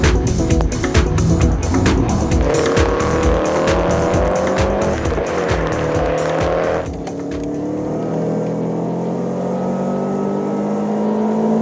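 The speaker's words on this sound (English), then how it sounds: "Next up is Mark in his WRX." A Subaru WRX blasting down a wet runway, its engine roaring loud and close through rapid rising revs and gear changes with a tire squeal, then dropping to a lower, steadier drone as it backs off and pulls away.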